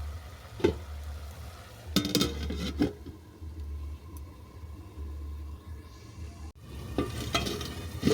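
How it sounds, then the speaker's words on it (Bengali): Bathua greens with coconut being stirred in a pan on the stove, a low steady sizzle broken by a few short scraping clatters of the spoon against the pan, close and moderately quiet, with no talking. "শাকটাকে নেড়ে ছেড়ে আবার আমি ডিশ ঢেকে দিচ্ছি দু মিনিটের জন্য"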